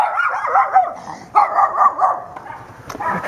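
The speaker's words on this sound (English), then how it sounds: "The dogs here are pretty freaking crazy." A dog barks and yips repeatedly from close by on a residential street in a Brazilian neighborhood, loud excited bursts in an uneven rhythm with a few whimpering notes.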